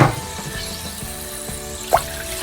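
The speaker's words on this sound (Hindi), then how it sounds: "2 कप पानी डाल देंगे इसमें।" Two cups of water poured into a pan holding a spiced mutton leg roast, a brief splash at the start, then a quiet sizzle with faint squeaky tones and a second small splash near the end.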